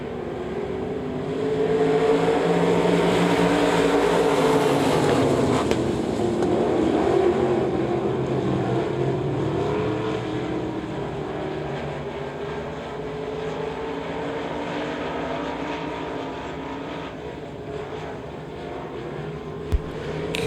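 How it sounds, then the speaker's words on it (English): Race cars roar around Devil's Bowl Speedway during a heat race, a loud continuous blend of engines revving and droning as the pack circles, with shifting pitch throughout and no talk. "And Charlie Knight in the 2K rounds out the top 5 here in heat race number 2"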